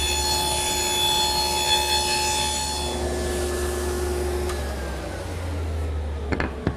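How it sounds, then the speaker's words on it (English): Router cutting dovetail pins in the front of a drawer using a dovetail jig in a woodworking shop, a loud steady high whine that drops in pitch and fades as the motor spins down. "I'll route the pins in the front."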